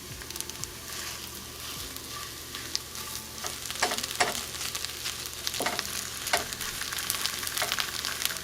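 Beans going into chorizo and mashed potatoes frying in a pan, with a steady close sizzle broken by several sharp scraping and stirring clicks throughout.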